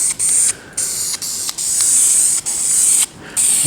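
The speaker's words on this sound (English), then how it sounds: "So I'm just going to go with kind of a medium coat to start with here." Bursts of aerosol primer spray in a medium coat on car dash trim, a steady close hiss broken by several short pauses between passes.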